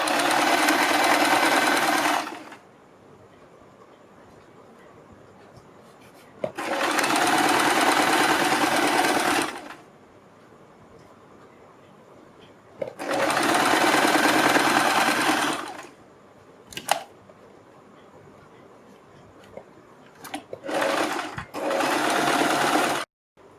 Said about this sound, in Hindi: हम अपने कपड़े को इस तरह से फोल्ड करते हुए किनारे से थोड़ा सा हट के इसके ऊपर एक सिलाई